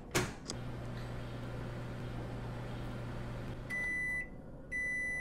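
A microwave in Job Simulator hums steadily while heating bread and cheese, with a click at the start and two long electronic beeps at the end.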